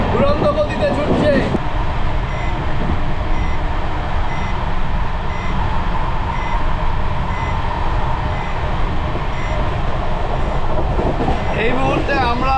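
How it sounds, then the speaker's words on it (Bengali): A new passenger train speeds along at around 105 km/h with a loud steady rumble and rattle from inside the carriage and brief tonal beeps near the start and end, while a voice talks over it. "আর আমাদের ট্রেন প্রায় 105 108-এ চলছে"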